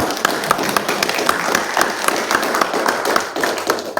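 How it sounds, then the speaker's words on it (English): An audience claps after a lecture on Christianity and science, a dense, continuous applause of many hands close by for about four seconds. "Yeah, it's okay to clap in this setting."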